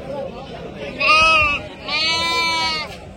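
At a weekly sheep market, sheep and lambs give two close, loud bleats in quick succession, with people talking faintly underneath.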